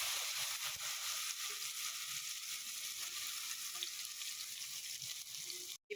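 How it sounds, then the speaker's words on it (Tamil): Sliced raw mango fries with mustard seeds in oil in a pan for homemade mango pickle, making a soft, even, continuous sizzling hiss with faint stirring underneath. "இப்போ சீவின மாங்காவை சேர்த்துக்கிற போகிறோம்."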